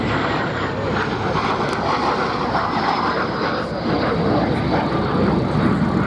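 A Gloster Meteor jet flies at the Duxford VE Day anniversary air show, a loud, continuous engine roar filling the scene without a break.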